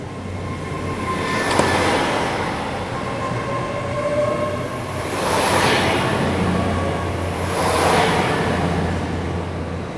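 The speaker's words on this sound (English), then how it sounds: "I started the journey to Penzance aboard a Class 800, initially getting off at Camborne Station" A Class 800 train passing through Camborne Station in West Cornwall, a steady loud rumble of wheels on rail that swells and fades in repeated waves, with a brief high squeal and a sustained whine on top.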